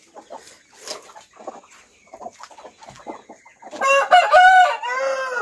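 Aseel chickens cluck and chatter softly in short bursts, then a rooster crows loudly and close by.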